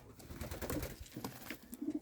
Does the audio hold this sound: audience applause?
no